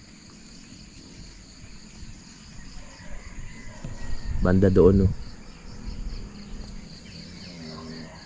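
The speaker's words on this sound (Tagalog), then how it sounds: "Sumasabay yung mga kuliglig sa ibon." Crickets chirp in a steady high trill on a mountainside in the morning, with possible birdsong faint in the background, while a person speaks briefly midway through.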